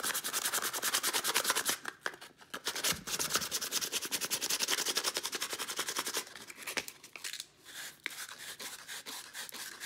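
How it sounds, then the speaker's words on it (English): Sandpaper rubs back and forth over a painted candlestick to strip the paint, a steady close scratchy rasp in fast, even strokes with a short pause near the middle. "Make sure that all of the paint is sanded off of this first so that the adhesive will stick."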